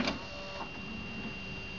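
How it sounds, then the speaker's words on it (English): Laserdisc player spinning up a large disc, a steady whirring mechanical drone with a faint tonal whine and a brief click at the start, close and moderately quiet. "Takes a second to spin up the big disc, and it is a little bit noisy at first"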